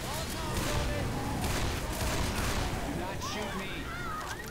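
Loud, dense gunfire from the co-op zombie shooter Left 4 Dead 2 crackles in rapid bursts almost without pause, under excited player voices talking over the action.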